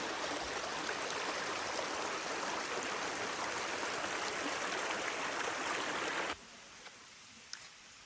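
A rain-fed mountain stream rushes steadily through fallen autumn leaves, a dense, continuous wash of water close by that cuts off abruptly near the end, leaving a quieter background with a couple of small knocks.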